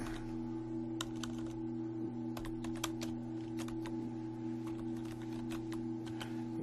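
Irregular, light clacking from fingers typing on a computer keyboard, fairly faint over a constant low electrical hum.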